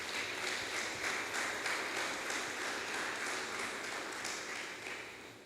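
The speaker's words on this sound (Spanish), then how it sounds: "Dele palmas muy fuertes al Señor." A church congregation claps loudly and steadily to the Lord in a dense, sustained wash of applause that holds at an even level and fades slightly near the end, with no voice over it.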